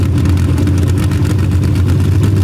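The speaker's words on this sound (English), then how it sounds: "There you see Dun Savage purging the nitrous as well." A drag racing vehicle sits at the strip at Paducah, its engine rumbling loud and steady and close while nitrous is purged before a run, with a constant low roar.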